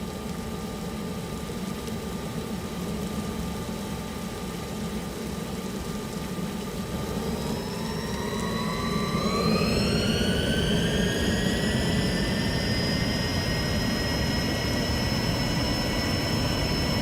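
Airliner jet engines in a video game spool up for takeoff, a low steady roar under a whine that climbs steadily in pitch and grows louder, with no talking.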